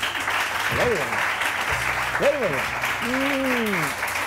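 An audience at a live show claps in a steady, broad wash that runs unbroken for a few seconds, with voices calling out over the clapping.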